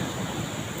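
Sea waves wash onto a beach in a steady broadband rush, close and continuous, with wind buffeting the microphone.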